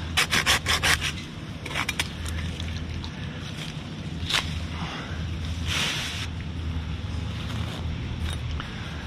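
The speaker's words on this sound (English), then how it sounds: "I'm just gonna handsaw it." A handsaw cuts through a tree branch during solo tree work, with steady rasping back-and-forth strokes, a few sharp bursts near the start, then a continuous rough sawing rhythm up close.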